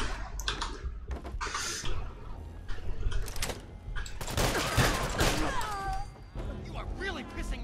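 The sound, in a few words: gunshots hitting a corpse in video game Fallout 4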